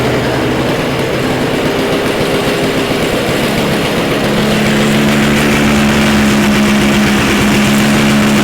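A cold snowblower engine, primed, choked and key-started, runs with a loud continuous mechanical drone that shifts pitch partway through as it settles, with no talking.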